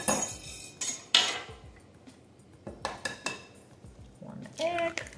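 Batter with soda, sugar and salt is whisked in a bowl, giving short bursts of metallic clinking and scraping separated by quieter pauses.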